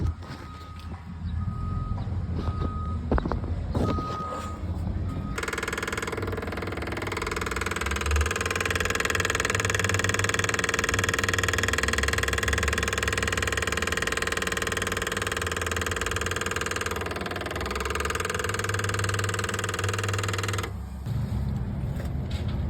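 A 2016 Caterpillar 259D skid steer, serviced with its fuel filter just drained, fires up after a few seconds of clatter and settles into a loud, steady diesel idle close by for about fifteen seconds before shutting off.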